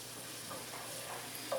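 Thinly sliced mushrooms sautéing in butter and olive oil, a soft steady sizzle and hiss from the pan with a brief stir near the end, faint and continuous.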